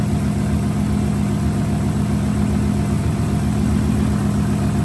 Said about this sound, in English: Idle sounds clean.